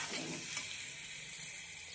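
Tomato puree frying in oil for chole masala curry gives a soft, even hissing sizzle that runs without a break, faint and close, no talking.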